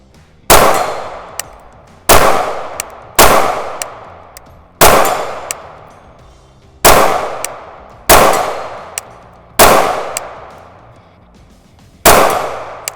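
Shots from a KRISS Vector 10mm ring out against a steel hostage swinger target, about ten sharp, loud cracks each followed by a ringing metallic clang, fired at irregular intervals of roughly one to two seconds.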